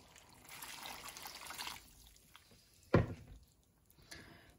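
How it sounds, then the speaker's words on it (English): Water pours into a pot of beef stew with canned chopped tomatoes in a home kitchen, a soft trickle that swells, fades, then returns faintly after a brief knock. "So in is going to go another 500ml of liquid."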